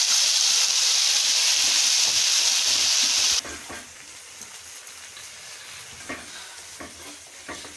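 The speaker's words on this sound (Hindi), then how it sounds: "अब इसमें ये हमने जो प्याज का पेस्ट बनाया था इसको डाल के अच्छी तरह से भूनेंगे।" Onion paste fries loudly in a pan for shahi paneer, a bright steady sizzle that drops off abruptly partway through, leaving quieter frying with scattered scraping and stirring sounds.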